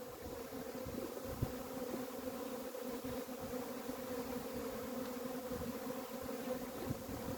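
Honeybees swarm around an opened hive during a colony inspection, a constant close, dense buzzing drone that holds steady the whole time with no talk over it.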